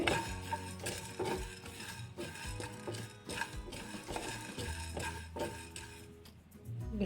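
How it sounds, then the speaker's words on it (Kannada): Fennel seeds and cumin being stirred while they fry in a pan over a medium flame, producing steady scraping and faint sizzling with scattered clicks of the utensil, up close and without speech. "ಸೋಂಪು ಹಾಕ್ಕೊಳ್ತಾ ಇದ್ದೀನಿ ಜೀರಿಗೆ ಇದನ್ನು ಕೂಡ ಚೆನ್ನಾಗಿ ಫ್ರೈ ಮಾಡ್ಕೋಬೇಕು ಮೀಡಿಯಮ್ ಫ್ಲೇಮಲ್ಲಿ ಇಟ್ಕೊಂಡು ಚೆನ್ನಾಗಿ ಫ್ರೈ ಮಾಡ್ಕೊಳ್ಳಿ"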